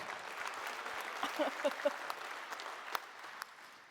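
An audience at a TwitchCon roast breaks into steady applause, a broad wash of clapping with a few louder claps and faint voices, easing off toward the end.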